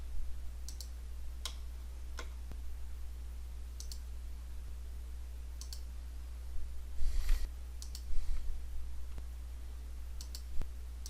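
Mouse clicks in Civil 3D as markers are picked one by one, sharp isolated clicks spaced irregularly over a low steady hum, with a few small clusters of handling noise.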